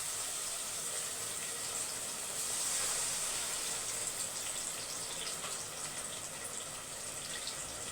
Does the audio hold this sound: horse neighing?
no